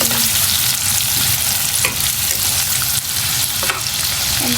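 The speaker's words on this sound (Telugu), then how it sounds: "రొయ్యలు ఫ్రై అయిపోతున్నాయి." Prawns for a masala curry fry in hot oil with a dense, constant close-up sizzle, plus occasional stirring scrapes, and no talk.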